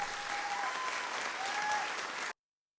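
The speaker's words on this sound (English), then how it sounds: "I got the soundboard" A canned applause effect plays from a soundboard during a live stream, a dense, steady burst of crowd clapping lasting just over two seconds before cutting off abruptly to silence.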